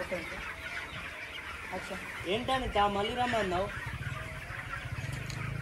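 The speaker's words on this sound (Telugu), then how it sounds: "ఇక్కడ ఏం చేస్తారంటే చిన్న కోళ్ళను పెంచి అవి పెద్దగా అయిన తర్వాత ఇక బయట సేల్ చేసేస్తారు" Chickens cluck and murmur on a village poultry farm where young birds are raised for market, with a person talking over the birds at moderate distance.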